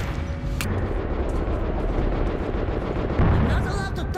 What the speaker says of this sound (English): Analyzing gunfire and explosives.